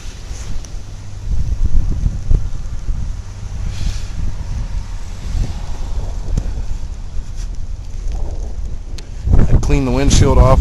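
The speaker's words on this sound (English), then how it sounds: "Delaware County is now under a level 2 snowstorm." Blizzard wind gusts roar and buffet the microphone during a snowstorm in Delaware, Ohio, a loud rumbling rush that rises and falls, with a voice speaking near the end.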